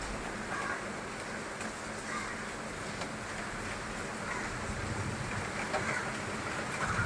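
Heavy downpour in Kolkata heard from a balcony under dark clouds: a dense, steady hiss of rain, fairly loud and unbroken throughout, with no talk.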